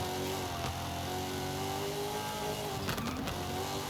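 Car on off-road tires in the racing game Forza Horizon 5, its engine a steady loud drone that rises slightly, with a brief rattling burst of bumps near the end.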